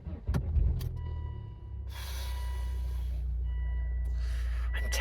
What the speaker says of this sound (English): let's see if it'll start